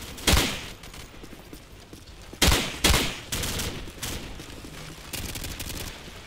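Gunfire in Call of Duty, in a robbery mission set in Manguinhos, Rio, with sharp bursts and single cracks spread unevenly across the stretch and quieter rattling fire between them.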